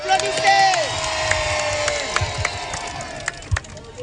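A large crowd at a presidential campaign rally in Guinea cheers and whoops, with shouting voices and sustained horn-like tones running through the roar and a few sharp claps.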